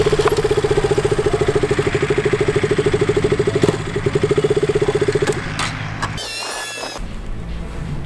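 A KTM RC200 motorcycle engine idles loudly and close with a fast, even thumping pulse, then cuts out and starts up again into a rougher idle.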